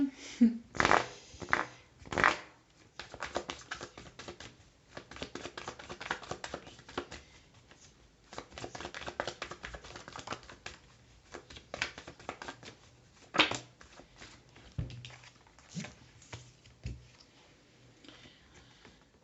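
Tarot cards are shuffled and drawn by hand, heard as close, dry papery flicks and soft taps in irregular bursts with quiet pauses in between.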